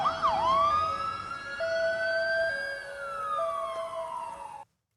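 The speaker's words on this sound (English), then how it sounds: "sirens on Honolulu warning people to evacuate as a potential tsunami moves in" Tsunami warning sirens in Honolulu wail alone, a loud rising and falling electronic tone with a short steady pitch that sweeps upward and then slowly slides back down over several seconds.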